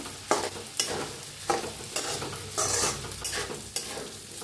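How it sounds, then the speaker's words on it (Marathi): Sago stirred into potatoes fried in oil in a pan, a spoon scraping and tossing in repeated strokes over a continuous sizzle and frying crackle, close and moderately loud, no talking. "मस्त असं तेलात भाजलेले आहेत बटाटो। आता टाकूया आपण साबू तांदूळ। मिक्स करूया।"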